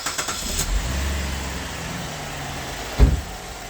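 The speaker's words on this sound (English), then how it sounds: "So now that the vehicle's running," A car engine idles steadily during an alternator and battery check, a low even hum with a few clicks at the start and a single thump near the end.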